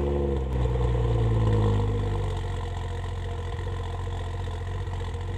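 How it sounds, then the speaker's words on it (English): A BMW car engine turns over on a cold start and settles into a steady idle, with a strong low rumble throughout that lifts briefly during the first two seconds and then holds even, with no talking. "I'll hit you guys with a cold start in the BMW today"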